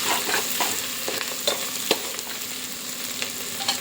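Mutton liver frying with turmeric while being stirred, a continuous close sizzle with scraping stirs throughout, no voices.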